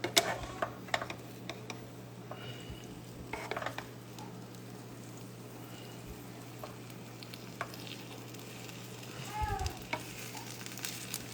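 Pesto egg quesadilla frying in a pan, a soft steady sizzle with occasional light clinks and scrapes of a utensil against the pan, close and quiet with no talking.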